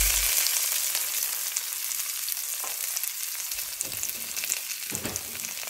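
Onions sautéing in hot oil with popped mustard seeds and fennel, giving a steady bright sizzle with a few soft stirring scrapes toward the end, close and continuous.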